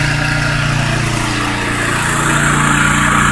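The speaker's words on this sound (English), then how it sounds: "And there's our pressure washing setup." Pressure washer running with a surface scrubber cleaning a home's driveway, a loud, steady mechanical engine drone with hissing spray that holds continuously throughout, no voices.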